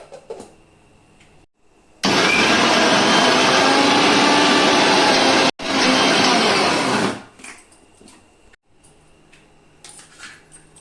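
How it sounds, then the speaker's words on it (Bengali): A kitchen mixer grinder roars steadily at close range, pureeing boiled jackfruit with soaked masoor lentils into paste, runs for several seconds with a brief cutout midway, then winds down amid faint clatter. "এটা এখন আমি দুটো একসাথে মিক্সিতে পেস্ট করে নেব।"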